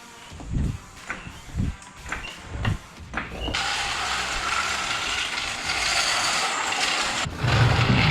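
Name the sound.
car being raised into the air to fit lowering springs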